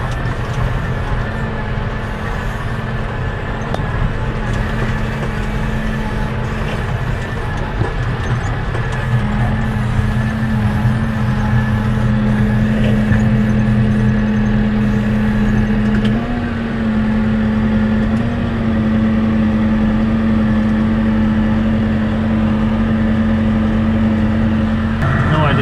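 A tractor pulling a baler works a field, a loud continuous engine drone with a steady hum throughout and a shift in pitch partway as it changes gear, with voices faintly mixed in.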